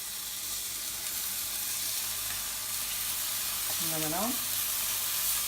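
Scallops sear in a hot pan after being flipped, a steady soft sizzle and crackle running throughout, with a single brief word spoken near the end.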